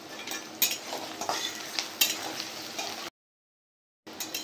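Onions fry in a pan for a spiced paneer dish, a busy sizzle broken by scraping stirs and utensil knocks, then a brief silent gap before the frying resumes.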